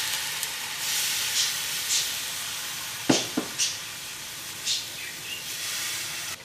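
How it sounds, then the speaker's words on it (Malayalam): Beef in hot oil for Kerala-style beef fry hisses in a steady, fairly loud sizzle after water is added, broken by a few sharp spatters and pops midway, with no talking. "ഇതിലേക്ക് നമുക്ക് ബീഫ് വേവാൻ ആവശ്യത്തിന് വെള്ളം ചേർക്കാം."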